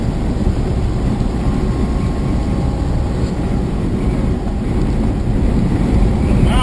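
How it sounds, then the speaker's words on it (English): Strong wind buffets an empty big rig semi truck on the highway, a loud, steady roar that fills the cab without letting up. "that's some strong ass wind"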